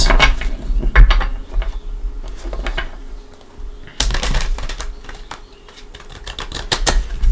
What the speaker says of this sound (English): let's give the Light Seers a couple shuffles